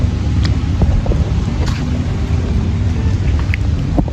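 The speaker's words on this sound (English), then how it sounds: "It started raining" Rain falls outdoors as a loud, steady wash of noise with a low rumble beneath it and a few faint scattered clicks and taps, continuous throughout.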